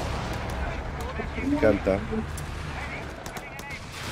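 Machine gun fire in the strategy video game Company of Heroes 3, a 4v4 match with the Afrika Korps: a steady rattle of gunfire and distant artillery thuds runs underneath while a player talks over it.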